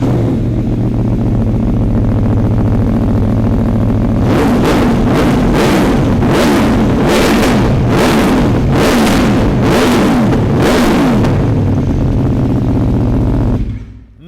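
Aprilia Tuono V4 Factory motorcycle idling loudly, then revved hard in a rapid series of about eight sharp throttle blips before the engine cuts off.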